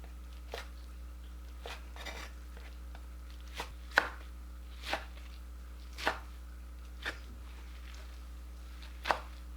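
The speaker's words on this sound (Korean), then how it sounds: "미역 물기를 짜고 4cm 길이로 잘라주세요." A knife chops fresh seaweed into 4 cm pieces on a cutting board, with roughly nine soft, separate cuts at uneven intervals over a low steady hum.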